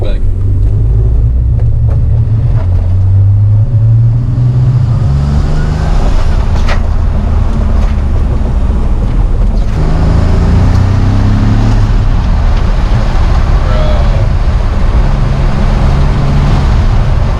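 A Nissan 300ZX drives along with its engine droning loudly and a heavy road rumble filling the cabin throughout, pitch shifting as the revs rise and fall, while voices murmur underneath.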